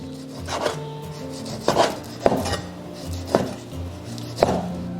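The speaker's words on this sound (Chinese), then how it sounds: "所以我们一定要这样子逆着它的纹路切片" A knife slices beef across the grain for satay skewers, giving about five distinct chopping thuds on a board at an uneven, unhurried pace, close and fairly loud, with no talking.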